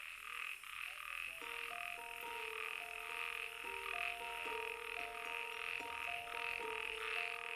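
Male toads croaking in a loud, continuous chorus, overlapping trills and calls forming a dense, rhythmic drone close to the listener.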